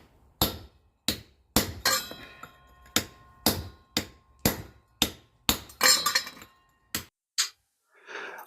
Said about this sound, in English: A pitching chisel is going to basically split the stone.